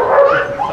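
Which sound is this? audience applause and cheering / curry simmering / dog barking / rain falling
dog barking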